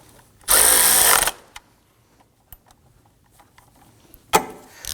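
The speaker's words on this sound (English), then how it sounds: "let's go ahead and snug down that horizontal bolt." A power tool snugs down the horizontal bolt on a Nissan Murano 3.5L V6 front engine torque strut mount. It gives one loud, close whirring burst of under a second, followed by scattered small clicks and a brief second rev near the end.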